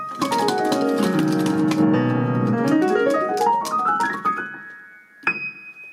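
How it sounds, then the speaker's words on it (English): Piano octave glissando played on the black keys, sweeping down then back up in a rapid run of bright notes, close and clear, ending with a short final note. "And it can actually be done on the black keys as well."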